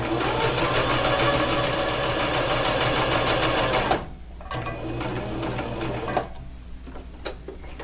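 A sewing machine stitches on denim, a loud, rapid, steady needle rattle for about four seconds, then it stops and faint clicks and handling sounds follow.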